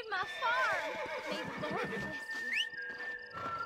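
Horse in Red Dead Redemption whinnying several times over in-game background sound, the neighs rising and falling near the listener, with a closing high squeal.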